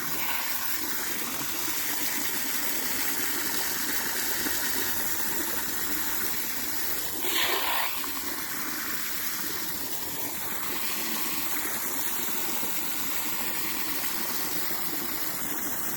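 Water is poured onto garden plants in a continuous, steady, hissing gush that runs unbroken from start to finish, with no talking.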